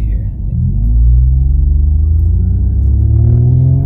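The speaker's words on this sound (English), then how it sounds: "that whirring noise?" A steady whirring hum from the drivetrain of an Infiniti Q50 or Q60 while driving, loud and continuous under a low road rumble.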